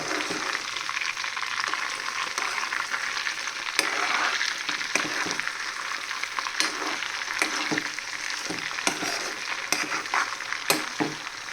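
Tuna fish pickle frying in sesame oil sizzles steadily in a pan, with scraping stirs and occasional clicks of the spoon against the vessel, close and constant.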